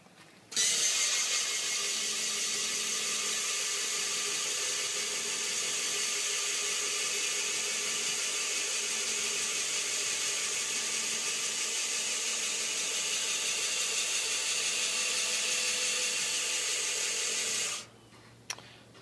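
An electric actuator drives an automatic chicken coop door shut with a steady mechanical whir and hum lasting about seventeen seconds. It stops abruptly at the limit with a faint click.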